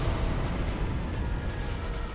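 A boss's close-range explosion attack in Dark Souls, heard as a dense, continuous low rumble and roar that fills the short moment at steady loudness, alone without speech.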